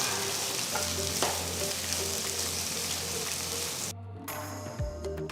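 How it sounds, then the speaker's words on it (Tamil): Sliced onions and slit green chillies sauté in hot oil with whole spices and bay leaf in a pan, a steady dense sizzle with occasional stirring scrapes that thin out near the end. "அடுத்து நீல வாக்கில் நறுக்கின 2 வெங்காயம், கீறின 3 பச்சை மிளகாய் சேர்த்து நல்லா வதக்குங்க."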